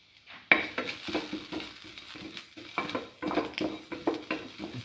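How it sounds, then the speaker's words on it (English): Ginger pieces and salt being stirred and mixed in a pan with scrambled egg, cucumber and coconut rice, a spoon scraping and clattering against the metal in irregular close strokes. "That's how we mix thoroughly."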